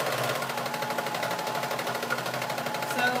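A sewing machine backstitches denim apron straps, running steadily with a fast, even mechanical whir, close and alone.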